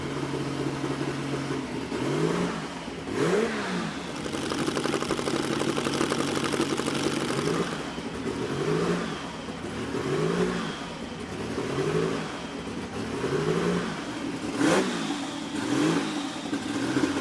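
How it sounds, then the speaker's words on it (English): A Porsche 935 race car engine idles with a deep, lumpy burble, punctuated by several sharp blips and revs that rise and fall throughout. "listen to that freaking thing idle"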